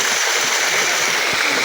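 A motor pump pours water drawn from a freshly desilted well, a loud steady gushing splash with constant rushing flow and no talk over it.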